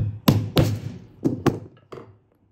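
Hammer striking a rivet while setting it in a leather box pouch at a workbench: five sharp, close thunks in two pairs plus a softer last hit, each ringing briefly before fading to silence.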